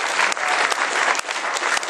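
Dense, steady applause from a convention crowd fills the whole stretch, loud and continuous with no pauses.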